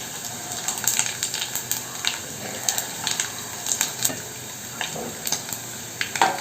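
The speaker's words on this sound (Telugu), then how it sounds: "రెండు ఎండుమిర్చి వేసుకుందాం అలాగే జీలకర్ర ఆవాలు" Dried red chillies, cumin and mustard seeds sizzle and crackle in hot oil, with a steady frying hiss broken by frequent sharp pops and spatters throughout, close and alone.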